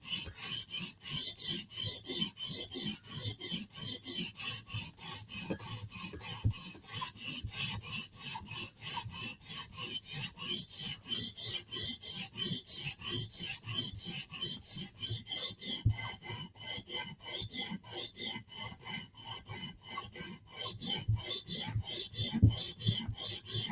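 A Koenig knife drawn over a 150 grit sharpening stone makes a long series of close, even gritty scraping strokes in a steady back-and-forth rhythm, with no voices.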